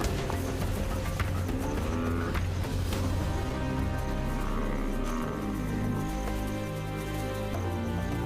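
A buffalo bellows with low, drawn-out calls while lionesses attack it, heard amid a dense, noisy tumble of hoof thuds and scuffling that runs continuously.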